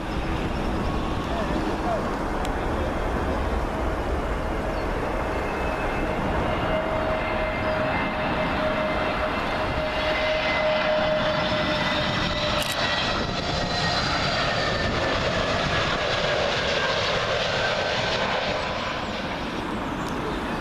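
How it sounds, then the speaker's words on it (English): A British Airways Airbus A320neo jet arriving from Manchester on approach to Heathrow runway 27L passes overhead as a steady, loud roar with faint whining tones, sustained for the whole stretch. "up next, British Airways A320neo. This one's coming from Manchester"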